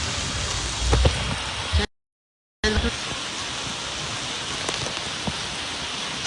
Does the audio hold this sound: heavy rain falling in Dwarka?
yes